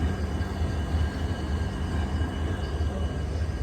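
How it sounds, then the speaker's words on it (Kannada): Passenger train departing on the Bangalore to Dudhsagar route, a steady low rumble and rolling clatter of railcars running close by throughout, with no talk over it. "ಸೊ ಬಾಸು ನಾವು ಬಂದಿರೋ ಟ್ರೈನ್ ಇವಾಗ ಹೋಗ್ತಾ ಇದೆ ನೋಡಿ."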